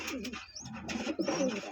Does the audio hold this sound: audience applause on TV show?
no